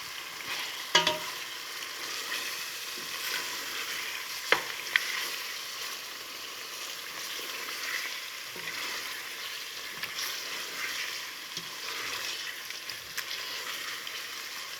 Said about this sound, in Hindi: इन इंग्रेडिएंट्स के साथ चिकन को आपने अच्छी तरह से फ्राई कर लेना है